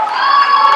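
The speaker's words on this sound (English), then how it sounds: "As you see once again the enthusiasm from the Wheeler swimmers and cheering on Amelia in lane 2." Wheeler School swimmers cheer at a school swim meet, a dense, loud crowd of young voices shouting and whooping continuously and close by.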